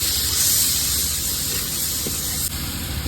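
Garlic paste sizzles in hot oil in a pan after fish has been fried, a loud, close, continuous hiss that eases slightly partway through.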